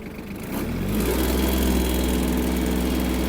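A Yanmar KE-50 mini tractor sets off in its lowest gear. The steady, low diesel engine note swells slightly in the first second and then holds a loud, even drone with a rhythmic mechanical chatter.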